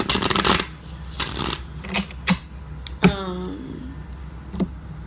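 Close, papery riffling of tarot cards being shuffled in a couple of quick bursts, followed by softer taps and handling noises.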